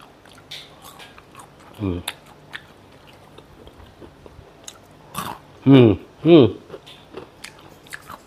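Crisp fried banana fritters (goreng pisang) being bitten and chewed up close, with several loud crunchy bites standing out in the second half amid quieter chewing, and a little talk in the background.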